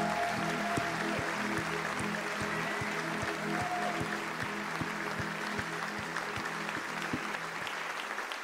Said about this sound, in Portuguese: Vamos aplaudir, gente, vamos aplaudir mais uma vez.